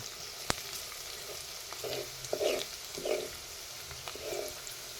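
Garlic and curry leaves dropped into softened onions frying in a pan for a chicken dish, giving a low steady sizzle with a few soft bursts of crackle as they hit the oil, close and fairly quiet.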